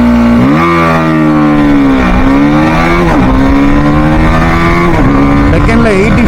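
BMW G 310 GS single-cylinder motorcycle accelerating hard on a top speed run, a loud continuous engine drone rising in pitch through each gear, with brief dips at the shifts, close and steady throughout.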